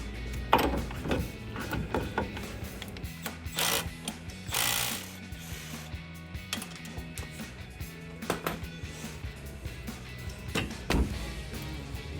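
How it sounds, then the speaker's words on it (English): Ratchet with a 16mm socket and a 15mm wrench working on the front shock bolts of a 2009-2018 RAM 1500 pickup, giving repeated close clicking ratchet strokes in irregular bursts with metallic clanks between them. "I've got a 16mm socket for the top and a 15mm wrench to hold onto the arm at the bottom."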